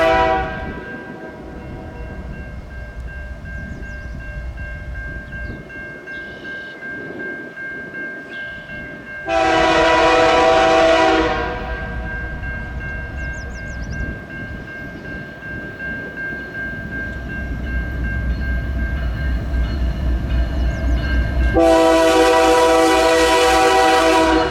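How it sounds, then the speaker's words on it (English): A westbound CPKC autorack freight train 137 led by a rebuilt CP AC-44 locomotive, with a KCSM unit trailing second, rumbling past with a steady engine drone and two loud, sustained horn blasts. "the Autorack train 137 headed west, with a CP AC-44 rebuild in the lead and KCSM Jivo trailing second"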